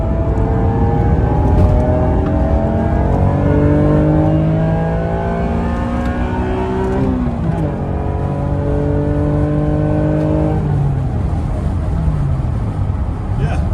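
Car engine drones steadily while driving on the road at around 120 km/h, loud and close from inside, with rising pitch sweeps and the drops of gear changes repeating throughout.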